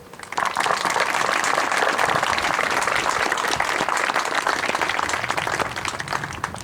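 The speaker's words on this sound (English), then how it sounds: "please join me in a round of applause for our administration, custodial staff, and faculty members for all of their support." An audience at a high school National Honor Society induction ceremony breaks into applause, a dense, even roar of clapping that swells quickly and holds steady for several seconds before easing slightly.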